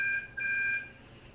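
Phone call tone: a steady electronic two-note beep, sounding twice in quick succession with a brief gap, clear over a low background hum.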